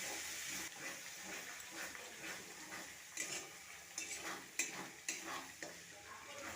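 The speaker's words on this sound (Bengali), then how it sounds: "সব কিছু মিশিয়ে এবার ভালো করে কষিয়ে নেব।" Spices with ground cumin, coriander and turmeric being stirred and fried in hot oil in a pan for a vegetarian pea and coconut ghugni: a steady quiet sizzle with occasional scraping clicks of a spoon, fairly faint and with no talking.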